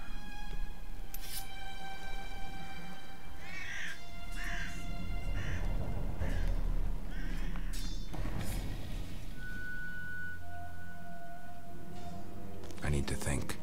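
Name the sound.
crows cawing in The Witcher video game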